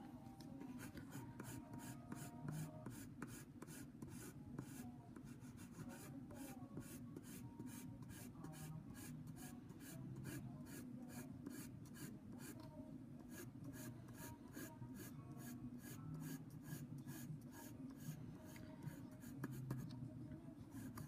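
Graphite pencil shading across paper makes a soft, continuous rhythmic scratching of quick strokes, close and quiet, with no voices.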